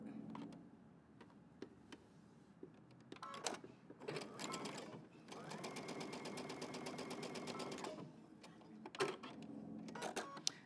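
A sewing machine back stitches a pressed pleat on a shirtdress, running in short bursts and then one steady stretch of several seconds, close and fairly quiet, with no talking.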